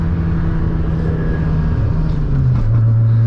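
A Mazda RX7 rotary engine drones loudly with a raspy exhaust while driving, a steady low growl that shifts pitch near the end as the car changes gear.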